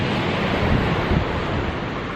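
Blustery wind sweeping across a beach during rainy-weather fishing, a steady, close broadband roar buffeting the microphone, with surf washing underneath and no voices.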